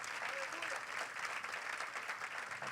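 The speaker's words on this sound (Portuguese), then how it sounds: "Se vocês creem nisso," A church congregation applauds together in a worship service, a continuous dense patter of many hands at fairly low level that keeps steady throughout, with faint voices mixed in.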